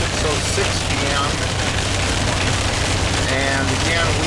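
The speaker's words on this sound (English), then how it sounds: "Lots of heavy rain." Heavy rain during a tornado chase near Gainesville, Texas, drumming loudly and steadily on a moving vehicle, a dense unbroken roar close around the listener.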